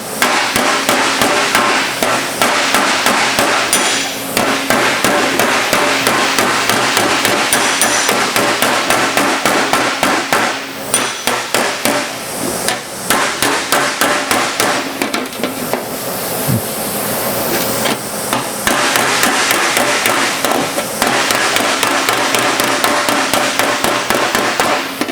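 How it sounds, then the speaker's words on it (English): Hammer-off-dolly work on rusty sheet metal during patch-panel repair: a long run of sharp, ringing metallic taps in quick rhythm, loud and close, with brief pauses between bursts. "I'm gonna do a hammer off dolly because I want this low to come up, I want that high to go down."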